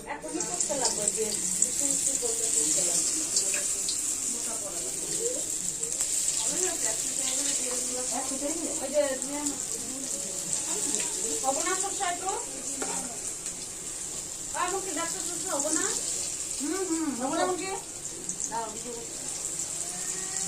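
Bora fritters sizzle in hot oil in a home kitchen, a steady close frying hiss running throughout while someone talks over it.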